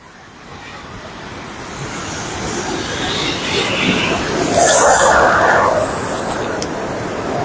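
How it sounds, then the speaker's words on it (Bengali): Released water rushes through Durgapur barrage in a steady broadband roar, swelling louder midway, with wind buffeting nearby and faint traffic in the background, no speech. "দেখুন দেখুন কি হারে জল ছাড়া হয়েছে"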